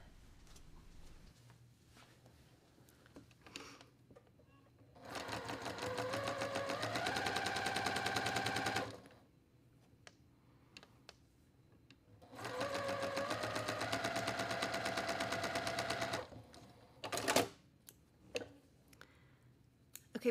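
A sewing machine stitches along the lines of a quilt block in two long steady runs of rapid needle clatter, separated by quiet pauses with a few clicks and handling sounds.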